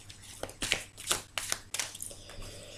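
Tarot cards being shuffled by hand at close range in a few quick riffling bursts separated by short pauses, with no voice over them.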